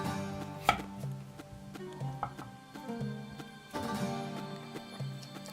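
A plastic cutter presses down through a potato, giving a few soft, close knocks and scrapes against a board, with tonal music running steadily underneath.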